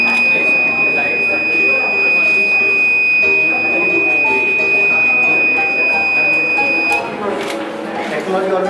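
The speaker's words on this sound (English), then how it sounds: "There is a buzzer and then this lights" A robot's steady high-pitched electronic buzzer tone sounds for about seven seconds and then cuts off in a school robotics lab, with people talking underneath.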